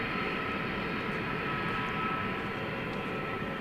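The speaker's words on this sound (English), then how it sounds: "I see, with my eyeball, Qatar flight 730, it's going to Doha, A350-1000." A Qatar Airways Airbus A350-1000 jet airliner at Dallas Fort Worth airport at night gives off a steady, broad jet-engine roar, even and unbroken throughout, heard from a moderate distance.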